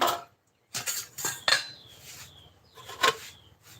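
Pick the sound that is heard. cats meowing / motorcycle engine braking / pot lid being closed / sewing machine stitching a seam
pot lid being closed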